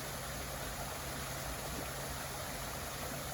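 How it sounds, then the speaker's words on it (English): Water rushes through canal lock gates on a misty morning, a constant broadband roar with no change in level, steady and unbroken throughout with no voices. "The sound of water flowing through the lock gates."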